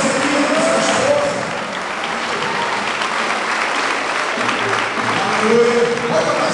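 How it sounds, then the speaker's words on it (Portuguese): A church congregation applauds a pastor and his wife, with steady, dense clapping that fills the room at full volume from start to finish and a voice speaking over it. "Aplauda para pastor Celino e sua esposa."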